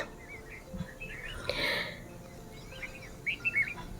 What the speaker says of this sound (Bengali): চতুর্দিকে পাখির আওয়াজ।